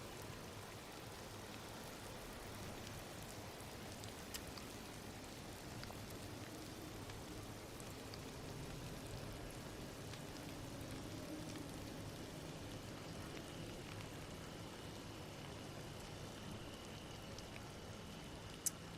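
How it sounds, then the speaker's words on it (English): Steady rain falls as soft, constant broadband hiss with faint drips, holding an even level throughout with a single sharp tick near the end. "Actually don't mind the rain."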